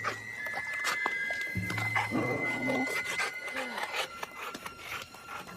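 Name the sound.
dogs barking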